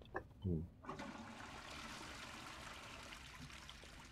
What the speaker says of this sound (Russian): Теперь скажите, дофига тут рабочий унитаз?